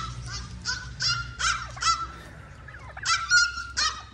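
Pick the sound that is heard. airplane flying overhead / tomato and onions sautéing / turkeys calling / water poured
turkeys calling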